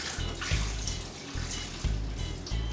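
Pig trotters are rinsed under a running tap, with water splashing and gushing in uneven bursts close by as the meat is moved through the stream.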